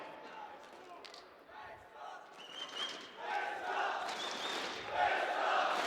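A large esports arena crowd at IEM Katowice, a Counter-Strike quarter-final between Gambit and FaZe on Dust2, roars and cheers, the sound swelling and staying loud over several seconds, with a commentator's voice faintly under the crowd noise.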